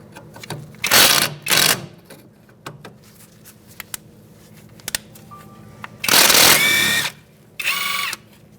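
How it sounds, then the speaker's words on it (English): Power ratchet or impact driver running a 10mm socket on a bolt while replacing rear strut mounts on a 2002-2006 Toyota Camry, two short whirring bursts, then a pause with small clicks, then two longer loud bursts. "We're going to remove this bolt now with a 10mm socket."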